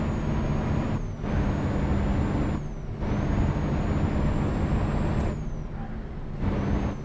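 Truck air brakes in a trucking video game, several loud bursts of hissing air released in a row with short gaps, over a constant engine rumble.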